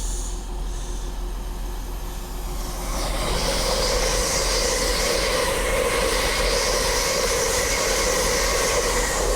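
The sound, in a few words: LNER train passing through Doncaster station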